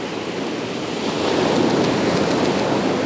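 Sea waves surge and splash against rock with a steady rushing wash that swells louder midway, close by with no voices.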